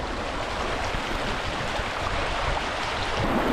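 A small waterfall pours into a rocky gorge stream, giving a steady, full rushing wash of water that stays close and even throughout, with no voices.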